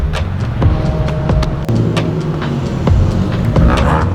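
A car driving on a beach, its engine rumbling steadily and loudly close up, with wind buffeting and periodic clicks and thumps over about four seconds.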